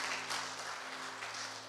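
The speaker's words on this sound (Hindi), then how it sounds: "क्यों जोरदार तालियों के द्वारा परमेश्वर को धन्यवाद दें." Congregation applauding during a Sunday Hindi church service, a steady continuous wash of clapping at moderate distance with a faint hum underneath, no voices.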